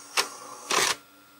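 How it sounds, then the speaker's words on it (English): An IBM 5181 Compact Printer printing a pattern gives two short mechanical bursts, a brief rasp and then a longer buzzing sweep, close and fairly loud over a faint hum, with no voices. "the printer, is busy making this pattern."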